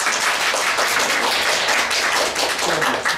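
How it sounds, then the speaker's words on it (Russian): An audience at a poetry theatre evening in a rock cafe claps in dense, continuous applause, close and lively throughout. "Аплодисменты."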